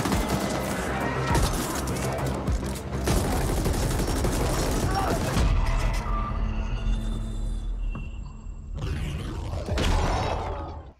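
Gunfire in the action game The Ascent, with dense, loud bursts of shooting and clattering impacts for several seconds, a short lull with mechanical sounds, then another heavy volley.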